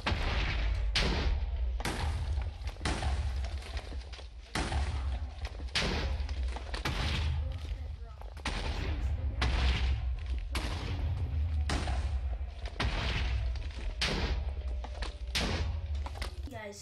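Explosions from improvised grenades in vanilla Minecraft go off again and again as loud, booming bursts at an uneven rhythm, nearly filling the whole stretch with a low rumble in between.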